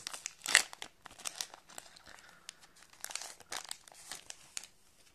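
A sealed Wizards trading card booster pack wrapper is crinkled and torn open, giving a string of close, sharp plastic crackles and rips in irregular bursts, with no talking.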